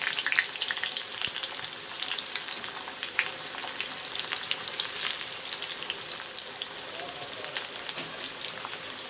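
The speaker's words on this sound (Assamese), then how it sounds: "পিঁয়াজটো মই অলপ বাদামী কালাৰ কৰি ভাজি ল'ম।" Chopped onions frying in hot oil in a home kitchen, a continuous close crackling sizzle with scattered sharp pops, fairly quiet and steady throughout with no talk over it.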